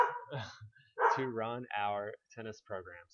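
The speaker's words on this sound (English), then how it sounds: "that's my dog" A dog barks in short bursts beneath a person speaking steadily in an indoor setting, the barks partly masked by the voice.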